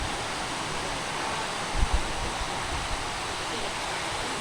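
A waterfall beside a mountain road near the Vietnamese border roars as a steady, broad wash of rushing water, constant and fairly distant, with no other clear sounds.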